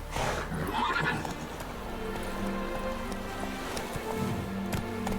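Roach, the horse in the video game Witcher 3, gallops with a steady run of hoofbeats and lets out a loud whinny near the start, all set against a continuous outdoor game soundscape.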